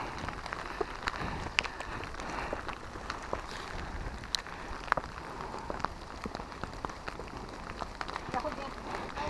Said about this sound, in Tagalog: Inabutan na kami ng ulan.